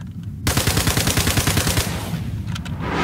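Sustained automatic weapon fire in Star Citizen erupts loud and close after a short quiet moment, a fast steady stream of shots lasting over a second before tapering into fainter scattered reports.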